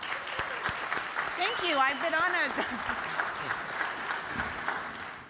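An audience at a media forum breaks into applause, a dense clapping patter filling the room while a speaker's voice continues over it.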